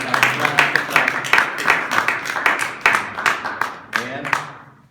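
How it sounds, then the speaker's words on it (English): A crowd at a plaque dedication ceremony claps in loose, close bursts of hand claps, uneven and fairly loud, while people talk over the clapping. "Okay, you guys can clap."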